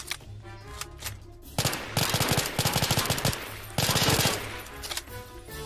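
Light machine gun from the Roblox game Oil Warfare Tycoon fires in loud sustained bursts with rapid rhythmic shots, two long volleys separated by a short pause, over a quieter game background.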